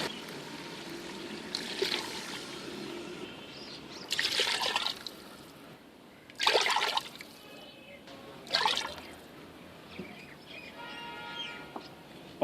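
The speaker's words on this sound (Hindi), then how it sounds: "आलू अच्छी तरह भून जाने के बाद अब हम इसमें पानी डाल लेंगे।" Water is poured into a pot of fried potatoes for village-style aloo pulao, coming in several short splashing bursts separated by quieter gaps, fairly soft and close.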